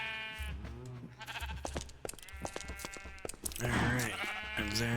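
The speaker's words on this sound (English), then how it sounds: "Just put a few cows around. Mix in some sheep." Sheep bleat in the Minecraft video game, with repeated harmonic cries layered over one another and a steady background game tone. Several bleats overlap with no speech.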